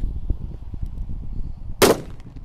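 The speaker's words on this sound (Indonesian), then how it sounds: "Ini mercon yang bledosnya banter, bosku. Kita nyalakan di lubang tanah." A Thunder firecracker set off in a hole in the ground goes off with one loud, sharp bang after a stretch of quiet outdoor rustling, followed by a short fading tail.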